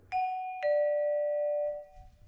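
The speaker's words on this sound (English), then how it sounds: "Glockenspiel." Two clear, pure glockenspiel notes play a doorbell ding-dong, a higher strike then a lower one about half a second later, each ringing bell-like and sustaining for over a second before stopping.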